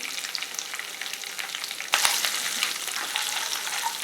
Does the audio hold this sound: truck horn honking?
no